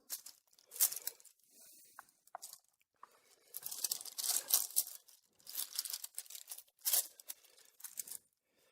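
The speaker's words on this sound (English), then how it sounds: "Peel out the wax paper" Wax paper peeled away from a freshly bound handmade book with a cardboard cover and spine, a series of close, dry crinkling and tearing rustles in uneven bursts with short pauses between.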